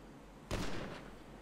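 A single sharp gunshot-like blast in the video game GTA V, sudden and loud, ringing out briefly and trailing off into a fading echo over quiet background.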